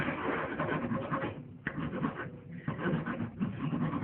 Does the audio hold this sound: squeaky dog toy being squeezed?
no